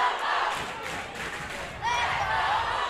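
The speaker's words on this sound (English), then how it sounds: "Listen to the crowd." Crowd noise swelling at a high school basketball sub-state game between Humboldt and Memphis Middle College, roaring in a continuous mass of shouts and cheers that grows louder near the end, with a few voices rising above.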